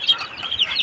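A native hen clucks softly and briefly close by her newly hatched chicks, a short run of quick low clucks.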